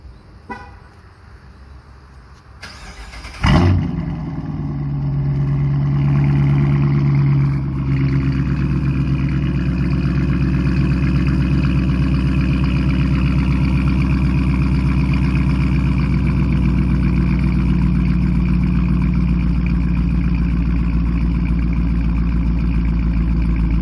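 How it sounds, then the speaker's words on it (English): A Dodge Challenger with its mid mufflers deleted idles after a semi-cold start, a brief horn toot and an engine catch giving way to a loud, steady, deep rumble that holds close and unbroken to the end. "I had the Mid Muffler Delete earlier today, and this is a semi-cold start."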